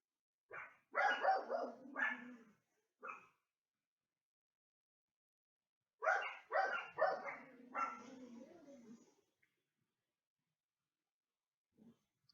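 Dogs in a home bark in two clusters of quick, close barks and yaps separated by several seconds of quiet, with a faint whimper near the end.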